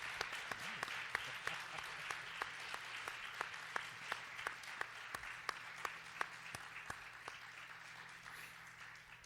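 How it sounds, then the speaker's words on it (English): Sparse, quiet applause for panelists at an academic conference opening session, a few distinct claps repeating steadily over faint room hum, heard from a distance. "let's give our panelists a round of applause"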